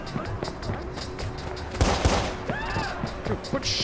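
Gunfire in Watch Dogs, with bursts of shots and a louder volley in the middle, over street ambience and a few brief voice sounds.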